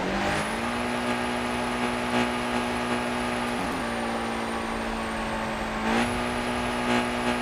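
Loud, steady engine roar of a rear-wheel-drive drag-tuned Toyota in Car Parking Multiplayer 2, held at high revs on a dyno with a sustained whine, briefly dipping near the middle before climbing back; no talking.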